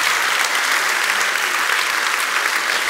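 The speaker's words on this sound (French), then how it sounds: "On peut les applaudir encore bien fort" An audience at an economics awards event applauds a saxophone quartet of conservatory musicians with dense, loud, sustained clapping that fills the room.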